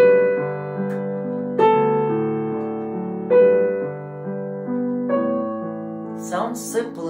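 Piano playing the Canon in D theme over left-hand chords: slow, ringing chord changes every couple of seconds with a melody on top, clear and close, with a brief burst of talk near the end.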